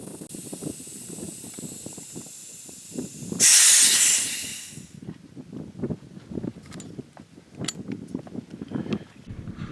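A Gauntlet SL .30 caliber PCP air rifle being filled to 4,500 psi through a Foster-type fitting, a loud sharp burst of hissing air for about a second and a half, then quieter clicks and handling noise.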